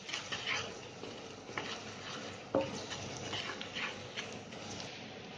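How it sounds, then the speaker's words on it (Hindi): Spices fry and sizzle with onions in a pan for a potato and eggplant curry, with a quiet crackle and intermittent stirring scrapes, including one sharper knock, and no talk. "प्याज गुलाबी हो चुका है हमारा, हम इसमें डाल देंगे अपने मसाले। इसको भून लेंगे हम अच्छी तरह।"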